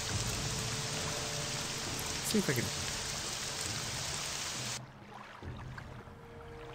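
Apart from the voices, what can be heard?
rain falling in the video game Morrowind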